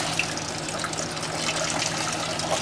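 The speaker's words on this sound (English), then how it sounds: "We're draining the coolant so we can do a flush and change the thermostat." Coolant pours steadily from a truck engine being drained for a flush and thermostat change, a continuous close splashing gush with no break.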